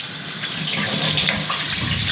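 Hot spring water gushes from the hot tap of an outdoor campground sink in Iceland, a steady, loud, close splashing rush that continues without a break.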